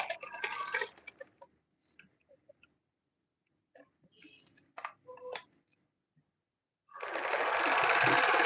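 A sewing machine stitching Ankara fabric, whirring in short bursts at the start and end with scattered clicks and handling noises between, close and clear with no talk.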